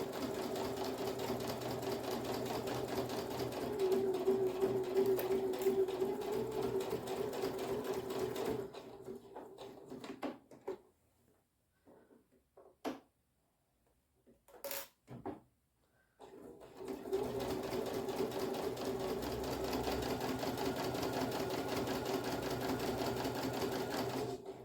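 Domestic sewing machine stitching a fabric bookmark, a steady close whirring run that stops for a quiet pause with a few small clicks, then resumes its continuous hum.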